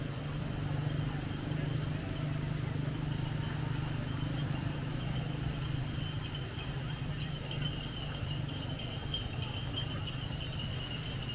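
Horses pulling tourist carriages on a street in Isfahan, Iran, hooves clip-clopping steadily amid a constant busy outdoor hum of traffic and insects.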